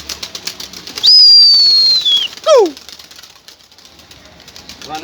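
Pigeons released from a coop burst into flight with a loud, close flutter of flapping wings, accompanied by a sharp sustained whistle and a quick descending chirp, then fade to quieter background noise.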